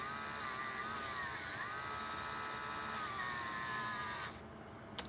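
A battery-powered Dremel rotary tool whines steadily while sanding a small paper model, its pitch sagging and wavering as the weak battery fades, then cutting out abruptly near the end.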